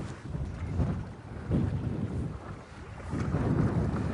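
Gusty wind buffets the microphone outdoors by a lake with waves, rising and falling in broad rumbling surges with no voices.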